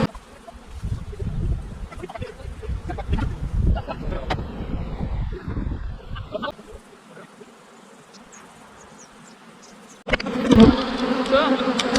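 A swarm of bees from disturbed beehives buzzes loudly and densely up close, fading to a quieter hum before a sudden, louder burst of buzzing returns near the end.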